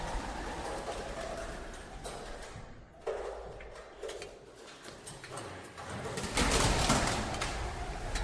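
Pigeons inside an abandoned church bell tower coo and flap, wingbeats bursting in short flurries against a soft, echoing background, louder toward the end.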